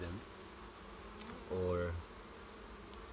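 Honey bees buzz around an open hive during an inspection of colonies kept in London, a low steady drone with a brief louder swell as one flies close past.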